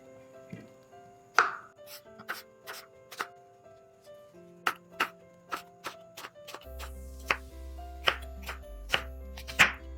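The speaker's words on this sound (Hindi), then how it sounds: "तो सबसे पहले हम सेब को काटेंगे" Knife chopping apple on a board for a creamy fruit chaat, a series of sharp, separate cuts in an uneven rhythm, close and fairly quiet, with a low hum entering late.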